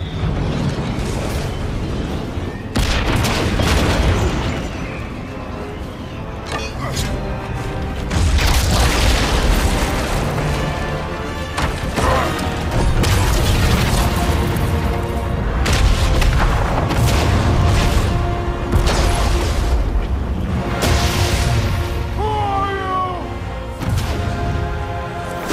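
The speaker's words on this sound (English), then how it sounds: "What was that? The bomb!" Bomb explosions in the video game God of War Ragnarok, heavy booming blasts and rumbling debris that come in repeated surges, loud and dense across the whole stretch with other game sounds mixed in.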